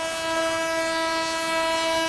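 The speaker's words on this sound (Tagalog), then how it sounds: "di alintana ang malakas na busina ng tren at alarma" A train horn blares loud and close at a rail crossing on G. Tuason Street in Sampaloc, Manila, holding two steady tones without a break, over a low rumble of rail traffic.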